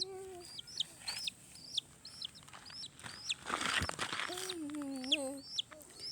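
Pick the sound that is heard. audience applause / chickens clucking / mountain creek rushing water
chickens clucking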